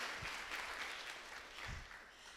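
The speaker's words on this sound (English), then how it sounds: "give yourselves a round of applause" Audience applause at a South Tampa Chamber 95th anniversary and Business of the Year awards evening: a steady, dense wash of clapping fills the room throughout, with no voices over it.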